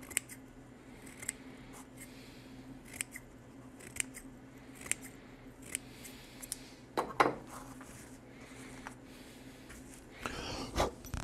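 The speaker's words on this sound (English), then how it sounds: "because cutting abrasives is fairly hard on scissors, as you might expect." Scissors snipping through abrasive sheet to cut squares and clip corners, a series of sharp crisp cuts spaced irregularly over a quiet background, with a louder cluster near the end.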